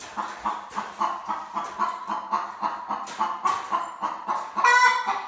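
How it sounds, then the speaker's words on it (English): An emotionally aroused hen gives a repeated alarm call, a steady train of loud, rhythmic squawking cackles about two or three per second, close by and alone, rising to a shriller note near the end. "chickens make this noise when they are highly emotionally aroused"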